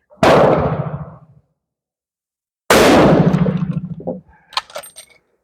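Two sharp, loud gunshots from a K31 Swiss rifle fired a couple of seconds apart, each with a ringing decaying tail, followed by a few faint metallic clinks.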